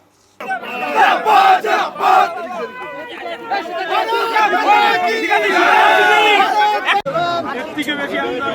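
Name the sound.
party supporters chanting Jai Shri Ram slogans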